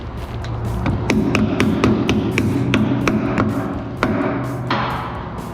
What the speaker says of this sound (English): Hammer it on.